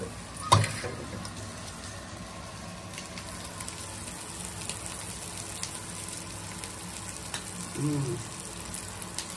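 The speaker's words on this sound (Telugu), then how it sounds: "ఇప్పుడు చూడండి ఎట్లా ఏగుతుందో." Food frying in oil with ghee added, a quiet, steady sizzle close by with faint stirring clinks and a couple of brief knocks.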